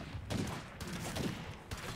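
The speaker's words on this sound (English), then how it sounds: "You get multiple people shooting bullets at him that don't exist." Several shooters firing at a Juggernaut in State of Decay 2, a muffled, fairly quiet fusillade of overlapping shots with a few sharper cracks standing out from a constant backdrop.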